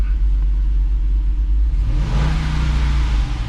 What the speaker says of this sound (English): the engine sounds better than it did